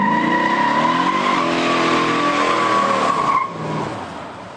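A 1970 Dodge Charger R/T with a 426 Hemi roars hard under acceleration, its tires squealing loudly and steadily for over three seconds before the sound drops off and fades.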